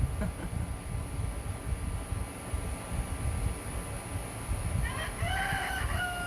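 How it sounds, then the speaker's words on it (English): Roosters crow at a distance, a faint call near the end above a steady low rumble of background noise. "It's not so cool when they start crowing at, 4 a.m."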